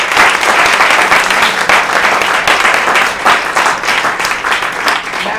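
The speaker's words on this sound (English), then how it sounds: "Let's give a round of applause." Sustained audience applause fills an improv festival show in Denver, loud and dense throughout with steady massed clapping and no break.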